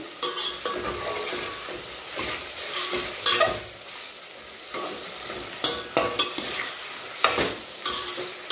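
Tomatoes sauté in oil for khari bhaat while a spoon stirs them, a close crackling sizzle broken by repeated scraping strokes and light clanks against the pan, with no voices.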